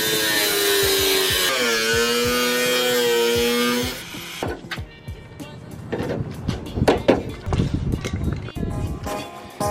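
A power tool cuts metal beside the rear fender of a Nissan 240SX, giving a loud, steady, high whine for about four seconds. Sharp knocks and clatter follow, with voices talking.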